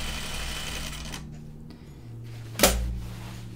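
A home sewing machine stitches briefly on a pair of bib overalls, a short mechanical whir that stops, followed by quiet, then a single sharp clunk and a low steady hum close by.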